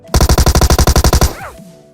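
Rapid automatic gunfire from a bot in PUBG Mobile, a burst of about thirteen evenly spaced loud shots, then a whooshing tail and faint ringing as the burst ends.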